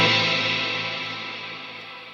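A guitar note ringing out through a Neunaber Immerse Reverberator with pre-delay, a single sustained wash of reverb decaying steadily over a couple of seconds.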